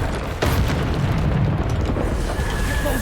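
Explosive Bombarda spell blasts in the game Hogwarts Legacy during a boss fight, a sudden heavy boom followed by a sustained loud rumbling roar that fills the whole stretch, close and dense.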